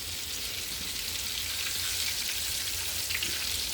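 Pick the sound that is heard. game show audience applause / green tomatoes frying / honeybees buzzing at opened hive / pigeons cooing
green tomatoes frying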